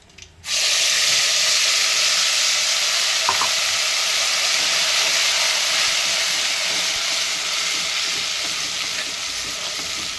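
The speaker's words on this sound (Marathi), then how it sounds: "हे वाटण आता आपण छान परतवून घेऊया" Masala paste with a bay leaf sizzles loudly in hot oil while being sautéed for a village-style partridge curry, a dense continuous hiss that starts suddenly and holds steady throughout, with no talk.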